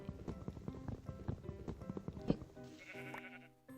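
A steady patter of soft hoof-like clops and bleating sheep sounds from the video game Dream Sky, fairly close, ending in a brief high synthetic chime.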